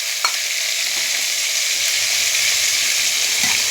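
Chopped tomato and onion sizzle in hot oil after ginger-onion paste is added, a steady bright frying hiss with a few soft stirring scrapes and clinks, close and constant.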